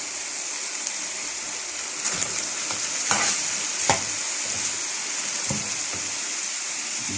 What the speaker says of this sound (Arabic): نبعد الشرايح كده ونقلب.